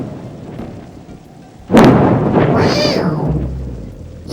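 Thunder from a lightning discharge cracks suddenly after a quiet stretch of rain, then rolls and rumbles loudly for a couple of seconds amid the storm noise.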